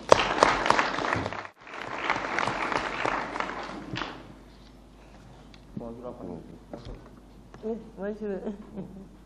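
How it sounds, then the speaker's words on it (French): An audience at a school training seminar applauds to thank a foundation, with a burst of dense clapping that breaks off briefly, resumes, then fades as a voice begins speaking. "je voudrais qu'on puisse lui dire merci par des applaudissements"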